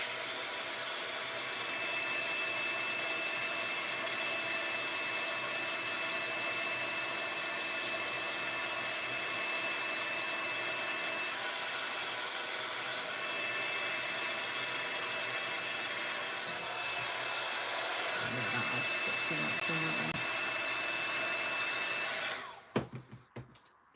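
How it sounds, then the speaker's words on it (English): A hair dryer blows steadily and close for over twenty seconds, drying alcohol ink spritzed onto a handmade pop-up space card, then cuts off abruptly near the end with a few handling clicks. "So that's why I'm drying in between each spritz"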